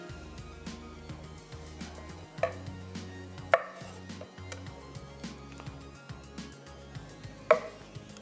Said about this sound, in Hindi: कुछ टमाटर भी हैं वो भी चॉप कर लेते हैं।